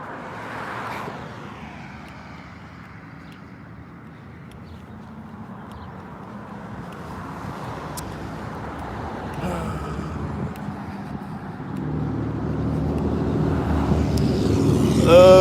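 Passing cars on a road, with a broad traffic rumble that swells and fades and builds louder toward the end as a vehicle draws near, set against steady outdoor background noise.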